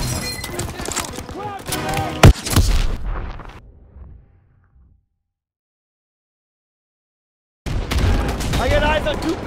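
Combat gunfire and a sharp explosion burst from the Call of Duty WWII battle at Marigny, dense and loud for about two seconds amid shouted voices, then the noise fades out to near silence before another loud stretch of gameplay resumes.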